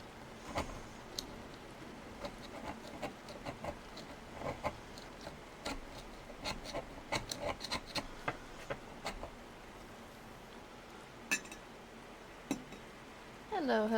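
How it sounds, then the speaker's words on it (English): Old wax mixed with sand being scraped out of a container, scattered scratchy ticks and scrapes at an irregular pace, close and moderately loud, with a brief voice-like sound at the end. "It's a lot of work scraping old wax out of things"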